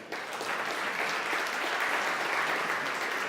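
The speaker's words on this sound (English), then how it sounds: "Round of applause for Debbie." An audience applauds a retail-channels presenter, steady, dense clapping that starts abruptly and holds evenly at moderate volume throughout.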